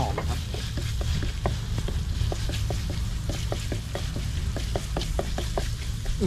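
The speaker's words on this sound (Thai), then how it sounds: "แล้วผัดให้" Spicy chicken curry stir-fries in a pan, a constant loud sizzle broken by repeated scraping and clinking strokes of a spatula at an uneven rhythm, close by with no talk.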